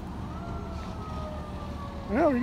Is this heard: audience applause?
no